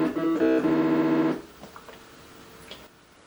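An Atari 8-bit computer's POKEY sound chip plays a buzzy, harmonically rich tone that shifts pitch in steps for over a second, then cuts off, leaving faint scattered blips and quiet background.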